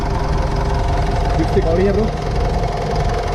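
A 2015 Mitsubishi Pajero Sport Dakar diesel engine idles with a steady, close rumble and light knocking, while someone talks over it.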